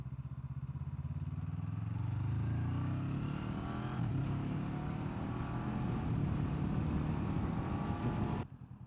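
A Honda NX500 E-Clutch motorcycle engine drones close and loud while riding uphill and shifting gears at low revs around 2000 to 2500 rpm, rising in pitch early on, then holding steady before cutting off abruptly near the end.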